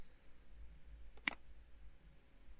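Two sharp clicks of a computer mouse in quick succession, close and crisp, over a quiet room hum.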